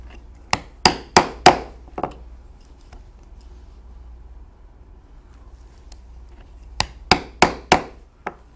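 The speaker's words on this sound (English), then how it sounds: "I will take a single punch, as you can see, and I will punch through the holes we punched first and on through to the back side." A single steel hand punch struck with a hammer through pre-punched holes in leather for a saddle breast collar, giving two bursts of sharp, close wooden-toned knocks, four or five quick blows each, separated by a quiet pause.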